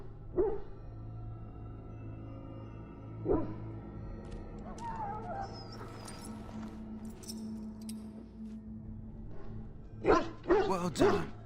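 A dog in the Dragon Age video game barks in sharp bursts: one near the start, another around three seconds, then a rapid cluster of loud yips near the end, over a low steady hum.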